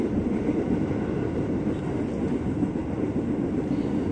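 A KRL commuter train bound for Bogor runs at night with a steady, even rumble of wheels and carriages that holds throughout, with no voices.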